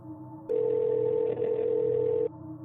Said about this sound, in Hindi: मैंने बाहर खड़े होकर ही एक बार फिर उस नंबर पर कॉल लगाई